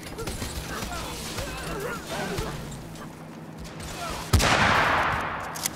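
Gunfire from battling units in Totally Accurate Battle Simulator, a continuous crackling volley that swells into a loud burst near the end, with a voice talking over it.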